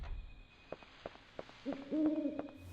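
Owl hoots in the Dino Crisis video game on PlayStation: a few soft, low hooting calls over quiet ambient game sound, the clearest hoots near the end.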